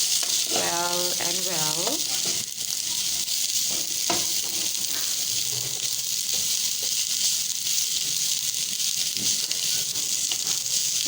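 Shredded cabbage sizzles loudly and steadily in a hot pan over a medium flame as it is stirred, with a brief voice near the start over the constant frying hiss.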